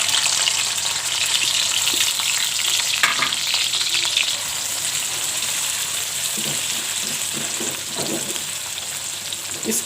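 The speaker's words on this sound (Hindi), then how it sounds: "इस प्याज को हम फ्राई करते हैं यहाँ तक कि प्याज का कलर चेंज हो जाए" Two finely chopped medium onions sizzle steadily in hot oil in a pan while aloo matar egg pulao is cooked, with occasional stirring scrapes and clicks over a constant bright frying hiss, close and fairly loud.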